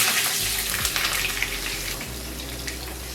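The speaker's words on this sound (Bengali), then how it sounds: "আমি আমার মুড়িঘণ্টার জন্য রান্না করার জন্য এবারে আলুটাকে ভাজতে দিই।" Potatoes frying in mustard oil for a Bengali muri ghonto, a steady broadband sizzle holding at close range for the whole stretch, with a low hum below and faint clinks scattered through it.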